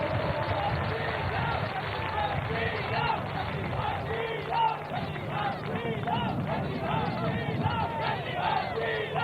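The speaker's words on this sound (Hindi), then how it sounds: "एक बार जोरदार तालियां दिल्ली के सारे निर्माताओं के लिए बजा दीजिए" Loud crowd at a Delhi political rally, many voices cheering and shouting in a dense continuous roar that fills the whole stretch, with little distinct clapping.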